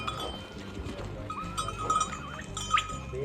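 Goats and sheep on a goat farm give a few scattered bleats over a soft background of animal movement, bell clinks and faint distant voices.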